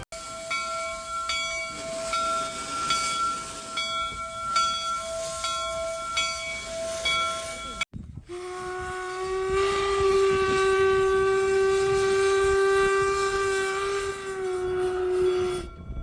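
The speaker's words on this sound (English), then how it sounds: "First, the Jupiter from the Central Pacific Railroad reversed" A replica of the Central Pacific Jupiter steam locomotive sounds a long, multi-toned steam whistle, which cuts out briefly and then returns as a strong, steady blast over background hiss and rail noise.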